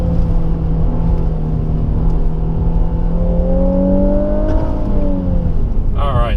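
A 2016 Infiniti Q50 Red Sport 400 with direct adaptive steering runs a short slalom, its engine a close, continuous drone that holds steady and then climbs in pitch near the end.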